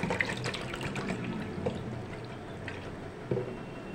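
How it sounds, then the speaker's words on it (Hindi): Cold water from a fridge poured into a bowl in a home kitchen while making aloo chaat, a steady splashing gush that runs the whole time with small bursts of spatter. "यहाँ मैंने एक बॉल ले लिया है और उसमें फ्रिज का ठंडा पानी डाल देते हैं।"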